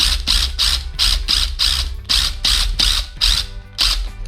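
Battery drill boring a hole into wood in a rapid series of short bursts, about ten pulses with brief gaps between them, loud and close with a ratcheting, clicking mechanical texture.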